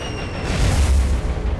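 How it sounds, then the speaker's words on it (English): SAP bombs explode on a tanker in the War On The Sea naval combat game, a heavy, booming blast with a deep low rumble that swells and lingers, loud and close. "Those were SAP bombs onto a tanker"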